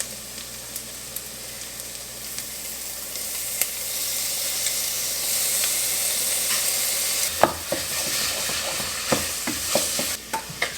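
Minced garlic frying in a pot for chicken noodle soup, a steady close sizzle at first, then a spoon stirring and scraping through it with repeated knocks against the pot.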